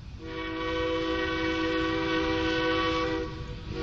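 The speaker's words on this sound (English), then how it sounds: "473, the train's coming in now." Train 473 arrives with its horn blaring in one long, loud, steady multi-tone blast that holds for several seconds over rumbling rail noise before tapering off.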